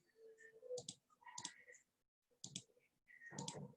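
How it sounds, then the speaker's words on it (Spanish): A computer mouse clicks in short bursts during work on a document with equations and graphics, soft and close, with a brief pause midway and no speech. "Tengo que hacer clic en la figura."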